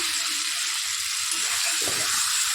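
Egg and potato curry with whole spices, cumin, chilli and coriander powder is sautéed in a pan, producing a continuous close, hissing sizzle with soft stirring.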